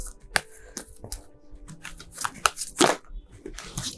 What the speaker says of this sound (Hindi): आइए निकालते हैं 3 कार्ड्स।